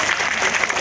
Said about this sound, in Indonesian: tepuk tangan kita semua dah